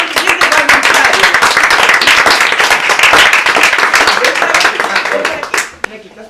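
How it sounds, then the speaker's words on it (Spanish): An audience at a presentation of short films by young Asturian filmmakers claps loudly and steadily for a volunteer, a dense wash of hands that fades out at the very end. "un aplauso para nuestro siguiente voluntario"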